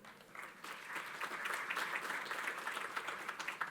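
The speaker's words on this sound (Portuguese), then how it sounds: "peço uma salva de palmas para ele" A conference audience at a telecom industry panel applauds a speaker coming to the stage, a soft, steady wash of many hands clapping that swells and holds.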